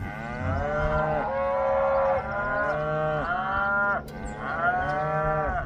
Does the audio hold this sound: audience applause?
no